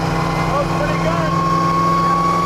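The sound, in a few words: car with straight cut gears whining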